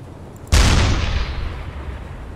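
A U-boat deck gun in the submarine game UBOAT fires a single high-explosive round: one loud, close boom with a sharp onset that rolls off into a long, fading low rumble. No voices are heard.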